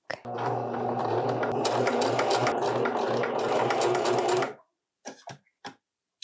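A sewing machine runs a continuous straight stitch along a t-shirt for about four and a half seconds, steady and close, then stops abruptly, followed by a few brief clicks and short bursts.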